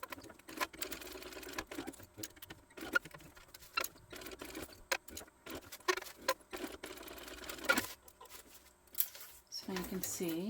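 A sewing machine top stitching a crossbody hip bag, running in short bursts of rapid mechanical ticking broken by pauses, fairly quiet, with someone talking between and over the stitching.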